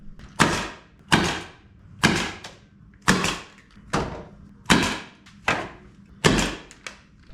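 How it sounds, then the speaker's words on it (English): Staples driven one after another into material stretched over a vintage camper shell, about seven sharp thunking hits at a steady rhythm, close and fairly loud with short decays. "So now I guess I can just start putting some staples in it"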